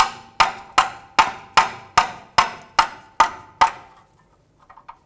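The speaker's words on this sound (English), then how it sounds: "take a 13 millimeter wrench and a rubber mallet and try to break the fitting" Rubber mallet strikes a 13 mm wrench on a seized exhaust fitting of a 2008-2010 Ford F-450 Super Duty, nine evenly spaced sharp metallic blows ringing out close and loud, then a few faint taps.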